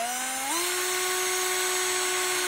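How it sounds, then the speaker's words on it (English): A power drill whines steadily at high pitch, its tone rising slightly at the start before holding constant while boring through material, loud and close. "we just drill the water inlet hole"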